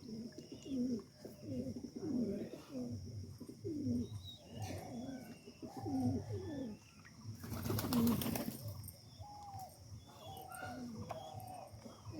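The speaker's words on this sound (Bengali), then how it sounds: "দেখতে পাচ্ছেন এগুলো কবুতর" Pigeons cooing close by in repeated soft, throaty phrases, with a brief burst of wing flapping midway and faint bird chirps in the background.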